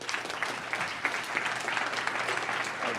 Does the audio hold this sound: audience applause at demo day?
yes